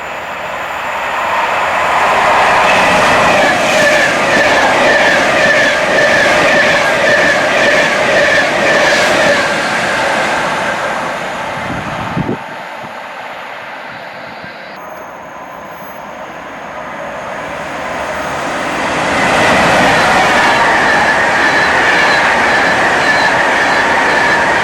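Class 390 electric train in old Virgin Trains livery speeding through Atherstone, a loud close roar of wheels and rushing air with clickety-clack that briefly drops away mid-pass before surging again.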